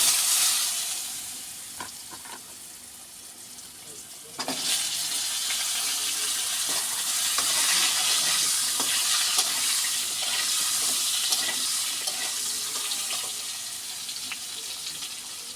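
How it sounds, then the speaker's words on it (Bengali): Potatoes and pointed gourd fry in oil with black cumin seeds and a little salt, giving a steady, close sizzle that jumps louder after a few seconds, with scattered clinks of stirring throughout. "একটু নুন দিয়ে আলু পটলটা ভালো করে ভেজে নেব"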